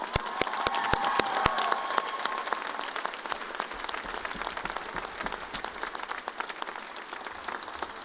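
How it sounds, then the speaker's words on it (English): A graduation audience at Weber State University's spring 2018 commencement gives a sustained round of applause. The clapping is dense, a little distant and steady throughout, with a few sharper claps standing out near the start. "Graduates, let's give those who supported you a round of applause."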